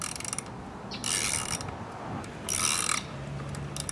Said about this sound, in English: little by little unscrew all these bolts right here, one by one